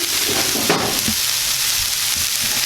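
Shrimp dropped into a hot frying pan alongside vegetables for an eggplant shrimp dish, giving a steady, close sizzle with a brief louder crackle near the start and no talking.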